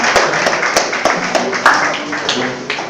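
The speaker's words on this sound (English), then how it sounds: "A round of applause" An audience at a youth political discussion in Nigeria applauds. Scattered, uneven claps ring out over a continuous clapping wash, fairly loud and close, then taper slightly toward the end.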